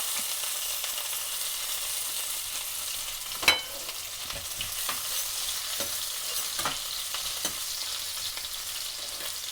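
Ginger and garlic fry in a pan for a Sri Lankan tin fish relish, giving a steady soft sizzle with a few faint utensil scrapes and one sharper clink. No one speaks.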